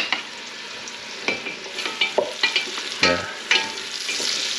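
Onions and garlic sizzling in a hot pan while being stirred, with repeated scraping clicks of the utensil over a steady frying hiss; one brief spoken word.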